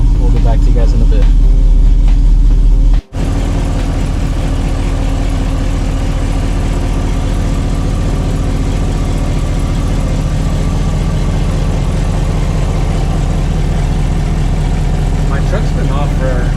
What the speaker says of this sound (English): Truck's been off for a few hours, so right now it's still warming up.